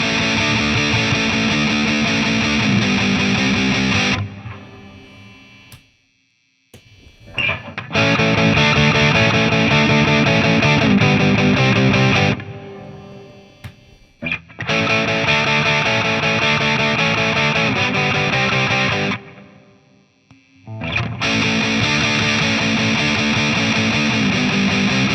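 An electric guitar plays through a Keeley Super Rodent distortion pedal in four loud, thick, sustained fuzzy bursts, each several seconds long with short near-silent gaps between them.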